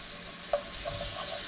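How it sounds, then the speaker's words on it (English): Chopped garlic and sliced purple onion sautéing in extra virgin olive oil over medium heat, a soft steady sizzle with a faint stir or clink, heard alone and up close. "Saute the onions on medium heat until they're translucent."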